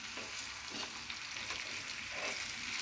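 Tomatoes roast in a pan for a soybean vegetable dish, a constant close sizzle with soft rhythmic stirring strokes, no one speaking.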